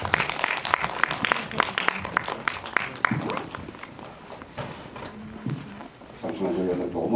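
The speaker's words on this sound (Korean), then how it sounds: "큰 박수로 받아주세요." Audience applause at a cinema talk event welcoming actors, dense clapping over the first few seconds then thinning out, with murmured voices and a speaking voice rising near the end.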